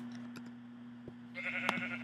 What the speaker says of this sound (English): Sheep get out of my way.